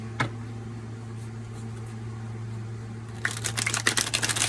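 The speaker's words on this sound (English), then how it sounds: "I will try to shuffle the whole deck." Rapid papery riffling and flicking of large gold-edged tarot cards starts partway through after a quiet stretch, crisp bursts over a steady low hum, close by.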